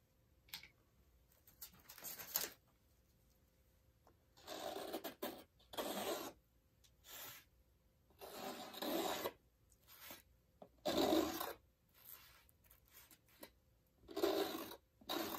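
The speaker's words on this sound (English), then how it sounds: "I'm going to scrape some of that off." Acrylic paint is scraped off a painting's surface in a series of short, dry rasping strokes, close and quiet, separated by pauses.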